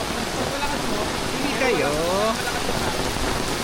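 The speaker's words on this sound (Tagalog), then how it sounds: "sobrang lakas na ng ulan" Heavy rain pours steadily on Boracay at night, a dense broadband hiss filling the whole clip, with a person speaking briefly over it.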